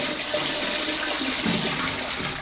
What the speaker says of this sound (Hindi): यहाँ से आप फ्लश कर सकते हो